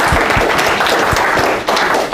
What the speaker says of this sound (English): All right, well, big round of applause.